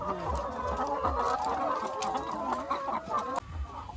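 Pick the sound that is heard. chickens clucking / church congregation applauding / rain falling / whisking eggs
chickens clucking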